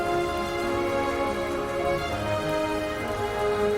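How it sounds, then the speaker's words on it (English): Rain falls in the video game My Time at Portia, a steady even hiss of drops that continues throughout while soft sustained background music tones sit underneath. "Fishing in the rain."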